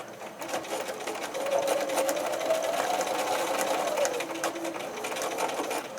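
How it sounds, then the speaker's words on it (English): A sewing machine stitches the fabric of a backpack for an 18-inch doll, running in a steady continuous whir for several seconds at moderate volume, with no talking over it. "We're going to put the right sides together, stitch it 1/4 inch"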